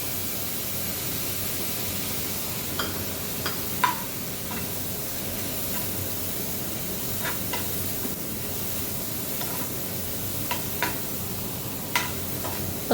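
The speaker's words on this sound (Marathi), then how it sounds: "पत्तागोबी आणि कांदा थोडासा फ्राय करून घ्यायचा" Cabbage and onion frying in a pan for a homemade veg frankie, a constant even sizzle with occasional light clicks and scrapes of stirring.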